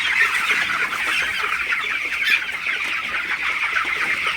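Broiler chickens on a farm cluck steadily and densely as a flock, a continuous close chorus with no speech.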